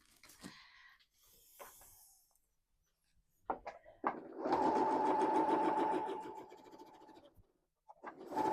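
Sewing machine stitching patchwork quilt seams, a quiet close whirring run of a few seconds after some soft handling rustles and clicks, then starting again briefly at the end.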